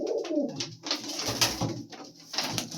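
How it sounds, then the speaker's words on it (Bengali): Pigeons kept in a loft coo in soft, low, throaty rolling calls, several overlapping phrases close by, with some light rustling and no speech. "পায়রা ছেড়ে দাও দেখি,"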